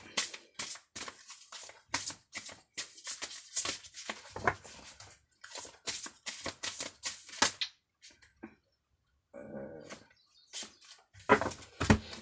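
Playing cards are shuffled and drawn during a tarot reading, giving a quick close-up patter of flicking and slapping cards that stops briefly, then resumes with lighter handling.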